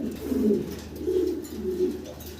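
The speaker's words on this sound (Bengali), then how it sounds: "প্রচুর কবুতর আছে" Pigeons cooing in soft, low repeated rolls at a pigeon house, three throaty phrases close by over faint background noise.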